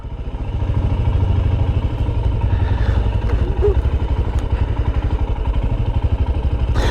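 A Royal Enfield Himalayan motorcycle rides along with a steady, rapid single-cylinder thump and rumble, close and continuous throughout, with light rattling over the top.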